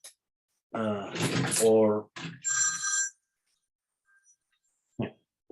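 A phone ringing during an English-language videoconference, a ring burst heard after someone speaks, then quiet with a brief click near the end.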